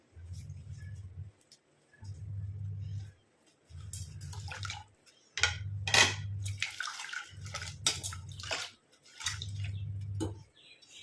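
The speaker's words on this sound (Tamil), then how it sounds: "எல்லாம் போய் நம்ம தண்ணியில் போட்டு நல்லா வாஷ் பண்ணிக்கலாம்." Flower petals being washed by hand in a container of water, with splashing and swishing that comes in regular bursts about every second and a half over a low rhythmic hum, close and moderately loud, with no talking.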